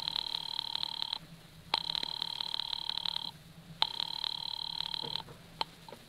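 A telephone rings in a radio drama, three long ringing bursts with short gaps between them, clear and fairly near against a quiet background.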